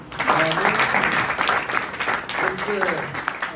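A congregation at a church convention in Chhindwara claps together, a brief full burst of applause with voices mixed in beneath it.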